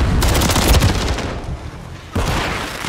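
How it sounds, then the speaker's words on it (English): Heavy gunfire bursts from a video game shotgun firing slug rounds, loud and dense with broadband blasts packed close together, easing briefly before another sharp report near the end. "Did I just get shotgun? I did get shotgun. He's got slug rounds on there."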